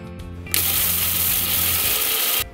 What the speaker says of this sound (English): We need to grind these ingredients.